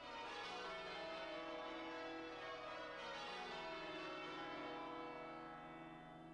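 Church tower bells, the big tenor bell among them, ring together in a rich, continuous wash of overlapping tones that fades a little toward the end, heard steadily and without voices.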